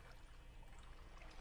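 Water pours steadily from a bucket in Minecraft, a soft continuous splashing rush that runs evenly and fairly quietly for the whole moment with no talking.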